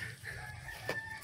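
Farmyard chickens, Plymouth Rock and Rhode Island Red hens among them, cluck faintly in the background while a rooster crows near the end of the brief stretch.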